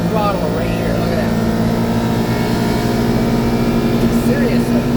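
Engine of a 2024 Kawasaki Ridge Limited side-by-side held at wide open throttle, a loud steady drone with whining harmonics, heard close from the cab with faint voices underneath.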